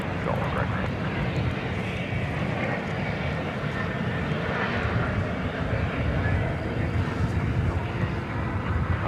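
A Qantas airliner roars at DFW Airport at night, a broad, steady jet rumble heard from some distance with wind buffeting the microphone.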